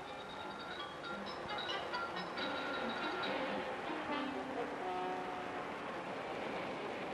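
A crowded Japanese commuter train in 1963 rolls past steadily with rumbling wheels and faint squealing tones, a continuous moderate rush with no talking.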